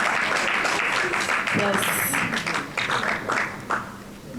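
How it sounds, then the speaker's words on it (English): Applause from an audience at a formal signing ceremony for Gambia's Got Talent, a broad wash of clapping that swells and then thins out, with a voice speaking over it. "A round of applause, please."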